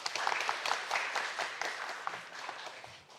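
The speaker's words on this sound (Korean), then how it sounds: "참석해 주신 모든 분들께 다시 한번 큰 박수 부탁드리겠습니다." A seated audience at a formal research-project meeting claps steadily throughout, a soft, even patter heard from some distance with no talk over it.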